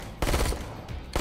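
Burst gunfire in the VR shooting game Hot Dogs, Horseshoes & Hand Grenades, a loud close rapid burst of shots followed by a second burst starting just after, no speech.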